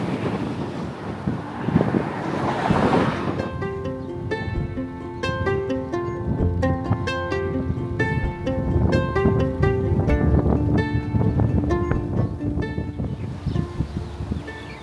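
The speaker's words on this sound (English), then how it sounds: "It's windy." Steady, loud wind buffeting the microphone throughout, with a tonal musical pattern rising over the rumble after the first few seconds.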